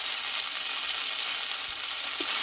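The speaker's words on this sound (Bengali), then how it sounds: "যে মশলাটা নিয়ে ভালোভাবে কষিয়ে নেবো" Spice paste with tomato, salt and turmeric fries in a pan for a bata fish curry, giving a steady, moderately loud sizzle with no voices.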